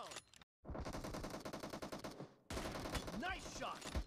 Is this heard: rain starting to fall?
no